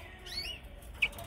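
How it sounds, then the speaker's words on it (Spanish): A canary kept outdoors gives a couple of faint, thin chirps and a brief flutter of wings, fairly quiet and close, with no voices. "El pájaro canta por los codos."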